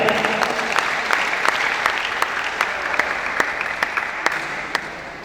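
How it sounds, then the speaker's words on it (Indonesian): An audience at a Christmas celebration of a family association in Mimika applauds the committee, a loud, steady round of clapping with distinct individual sharp claps standing out above the dense wash, fading slightly near the end. "Tepuk tangan untuk panitia."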